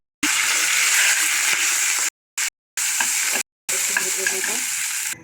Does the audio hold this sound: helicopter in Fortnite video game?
no